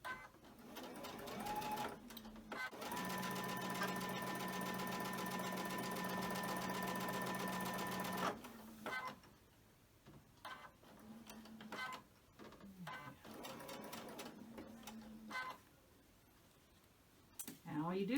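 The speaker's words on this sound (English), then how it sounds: "all I'm doing is just chain stitching these" Sewing machine chain-stitching quarter-inch seams on quilt pieces, one long steady whirring run followed by several short bursts of stitching separated by pauses and small handling noises.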